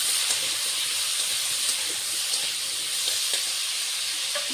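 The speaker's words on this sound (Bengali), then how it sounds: "এখানে আলুটা ভাজা হচ্ছে" Loud, steady sizzle of potatoes frying in a pan, a continuous bright hiss with faint crackles and occasional stirring scrapes.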